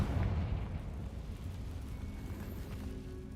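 A Confringo fire spell bursts in Hogwarts Legacy, a heavy booming explosion up front that rumbles and fades over a few seconds.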